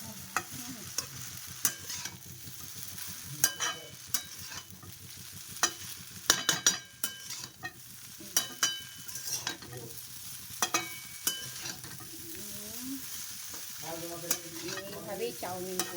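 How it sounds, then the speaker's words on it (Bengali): Chow mein fries in a hot pan with steady sizzling, broken up by repeated scraping and clattering of a spatula as the noodles are stirred, close and continuous without talk. "আগে একটু চাউমিনটা ভেজে নিই"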